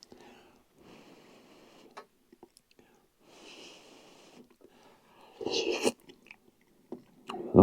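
Someone alone at a remote Idaho backcountry campfire eats a soft, campfire-cooked potato, with faint close chewing and bites that grow louder toward the end, amid quiet pauses and a few small clicks.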